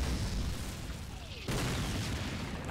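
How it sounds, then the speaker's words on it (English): Mortar explosions in Call of Duty: United Offensive, a heavy rumbling boom that dominates the start and a second blast striking sharply midway, both deep and close with a dense low roar. "are the mortars done?"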